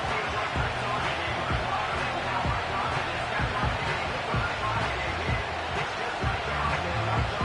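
Steady roar of a stadium crowd cheering in the Madden 25 football video game, a dense, continuous wash of noise with faint rhythmic thumps beneath it, at even loudness throughout.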